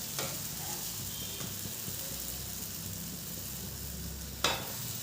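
A steady, close sizzle of stuffed bread slices frying in a pan until lightly golden, an even hiss with faint scraping stirs and one sharp tick near the end.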